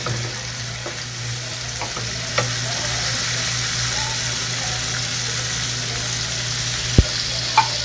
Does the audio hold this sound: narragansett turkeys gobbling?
no